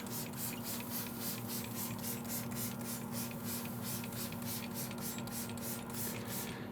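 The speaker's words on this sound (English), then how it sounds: "We're going to give this a good spray." A spray bottle of half water, half apple cider vinegar hisses onto smoking ribs in a steady run of quick, evenly spaced squirts, close and fairly loud, over a constant low hum in the background.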